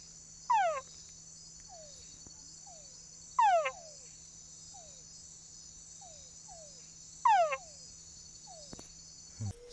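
White-lipped foam frogs in a Panama jungle at night give three loud rapid rattling croaks, spaced a few seconds apart, with softer single chirps between them over a steady hum of insects.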